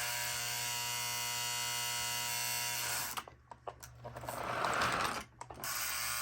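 Lionel toy train running on powered track with smoke unit operating, a steady mechanical whirring buzz of gears and motor that dips and shifts briefly as it moves, quiet and close.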